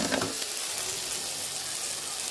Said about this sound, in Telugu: ఇప్పుడు మనం కారం వేసుకుని ఒక 2 నిమిషాలు దీన్ని కూడా వేగనిచ్చుకోవాలి